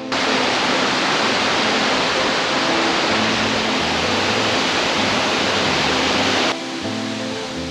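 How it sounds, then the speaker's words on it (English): A waterfall on the steep path up Scafell Pike pours with a loud, steady hiss and rush of falling water, close and continuous, easing slightly near the end. "But I've got a pretty waterfall to look at."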